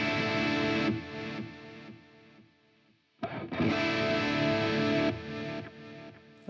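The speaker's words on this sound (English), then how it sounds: "With the mod turned on, you are now modulating the delayed signal, and it sounds like this." A TC Electronic TC2290P digital delay with its modulation switched on, treating an instrument signal so the repeating echoes waver and shimmer; two loud sustained phrases are split by a brief quiet gap.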